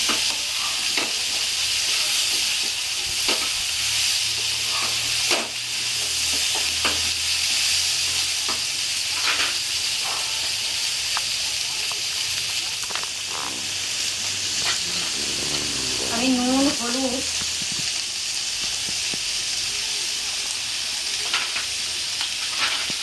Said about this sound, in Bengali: আমি কাঁচা কাঁঠালটা কষে কষে রান্না করবো